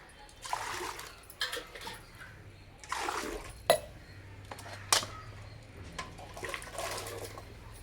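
Cut bottle gourd pieces are rinsed in water, giving soft, irregular splashing and sloshing with a few sharper clinks of a bowl. The sounds are close but faint.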